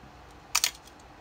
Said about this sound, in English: you can hear the mechanism in the camera working these slower shutter speeds